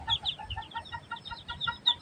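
Separated ducklings call for their mother in rapid, high, repeated peeps. The small chirps come in a quick, steady series, close and moderately loud, with no talking.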